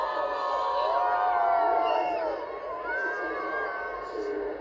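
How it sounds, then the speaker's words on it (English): A racecourse crowd at Royal Ascot, gathered near the two-furlong pole, cheers the King and Queen's royal procession, with sustained mid-distance whoops and shouts that ease off slightly toward the end. "we're all cheering for the King and Queen and the royal procession down here by the 2 furlong pole"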